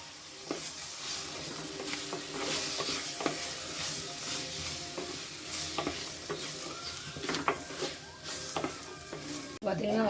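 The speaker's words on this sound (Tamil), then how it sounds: "இப்போ தக்காளி சேர்த்துக்கலாம்" Tomatoes frying in masala for a spicy Kerala fish curry, with a steady sizzle throughout and repeated stirring scrapes from a spoon in the pan, close and fairly loud.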